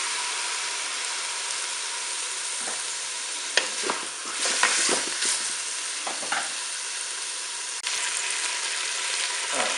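Pork roast browning in a Cookeo multicooker, a steady close sizzle with bursts of stirring and scraping, and no voices.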